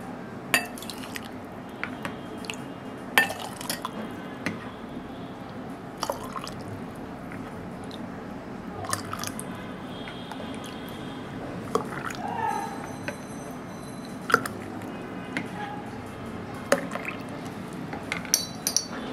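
A spoon clinks against a glass while lemon sharbat is stirred together with isabgol husk, scattered light taps and liquid swirls over a soft steady background.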